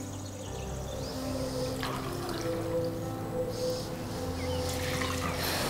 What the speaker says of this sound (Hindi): ये मिक्सी जार है, उसमें एक कप पानी डालेंगे।